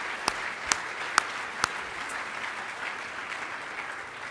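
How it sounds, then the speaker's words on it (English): Faint audience applause at a Seattle business event, a soft wash of distant clapping with a few sharper nearby claps standing out early on. "Let's give him a round of applause"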